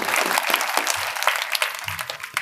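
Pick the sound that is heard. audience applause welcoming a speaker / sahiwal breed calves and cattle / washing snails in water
audience applause welcoming a speaker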